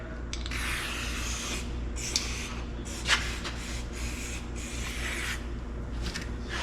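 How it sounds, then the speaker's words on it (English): Silicone spray from a Napa can hisses into the window track of a 2001-2004 Jeep Grand Cherokee WJ, several soft, fairly quiet bursts of spray with faint rubbing between them, close up and without talk. "So what we've got here is basically just silicone spray, and this version is from Napa here."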